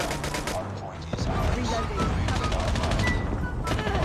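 Dense, rapid automatic gunfire fills the whole stretch of a Call of Duty Mobile match, loud and continuous with sharp bursts layered over the game's background noise.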